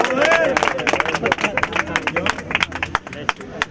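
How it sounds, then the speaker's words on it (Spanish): An audience claps and cheers at a rap battle, dense rapid clapping with crowd babble and shouts, loud and close, gradually thinning into scattered claps toward the end. "¡Fuerte el aplauso!"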